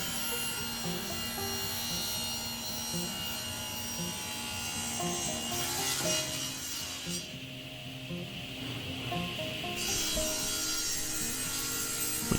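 A saw run through a shop-made jig cuts a 15-degree bevel along a wooden tabletop edge, a steady whining buzz with a brighter, harsher stretch midway before settling back, no talking.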